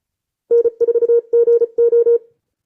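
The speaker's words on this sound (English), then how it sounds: "He'll send his call sign at 35 words a minute." Morse code call sign keyed at 35 words per minute, a fast single-pitch tone beeping in quick dots and dashes as four short bursts of characters, clear and close with no talking.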